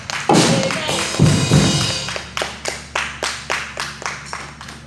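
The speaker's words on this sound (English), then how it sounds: "With a clap offering, let's welcome our Papa." A church congregation claps hands together to welcome the preacher during a service, starting as a loud burst of applause and settling into a steady rhythmic clap of roughly two beats per second, close and prominent.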